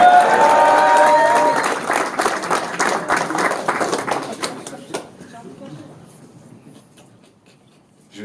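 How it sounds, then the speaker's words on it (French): A crowd at a French battle rap event claps and cheers loudly, a dense burst of applause with voices mixed in that thins out and fades over several seconds. "Applaudissez"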